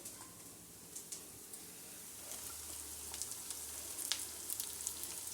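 Sliced okra frying in a pan, a quiet, steady sizzle with scattered faint crackles and pops that grow slightly busier toward the end, with no voices.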